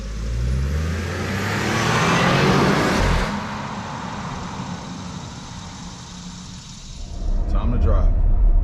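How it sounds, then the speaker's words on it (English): A 2021 Porsche Cayenne luxury SUV drives on the road, its engine swelling and easing with tire and wind rush, then picking up again near the end, under occasional talk from inside the cabin. "now it's time for us to actually take this car on the road and take it for a spin and see what it could do"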